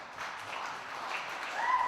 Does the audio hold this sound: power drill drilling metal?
no